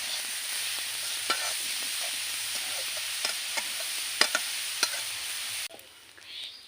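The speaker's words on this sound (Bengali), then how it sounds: "গাজর ভালো করে একটু ভেজে নিতে হবে, নাহলে গাজরের কাঁচা গন্ধ থেকে যাবে।" Grated carrots frying in a pan for a village-style carrot payesh, a steady close sizzle with intermittent scraping stirs of a spatula, quieting near the end.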